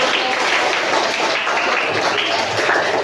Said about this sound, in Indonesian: Woi, tepuk tangan.